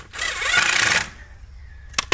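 A power drill or driver sets screws into a basement window frame in one short loud burst of whirring, followed by quieter handling clicks near the end.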